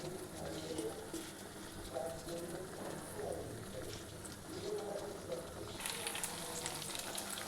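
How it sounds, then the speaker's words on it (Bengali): Chicken pieces frying in a pan over medium heat give a continuous soft sizzle and crackle, fairly quiet and even throughout, with a faint brighter hiss near the end. "মিডিয়ামে জালটা রেখে আমরা চিকেনগুলোকে ভাজবো।"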